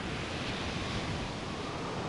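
Stormy ocean surf in the video game Reksio i Skarb Piratów, a steady, dense roar of crashing waves and rushing water that stays loud and unbroken throughout with no voices.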